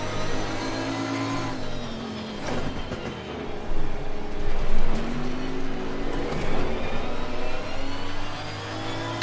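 Race car engine in the sim racing game Assetto Corsa Competizione, a steady loud drone with shifting pitch as the car brakes and runs wide, continuous with no talk.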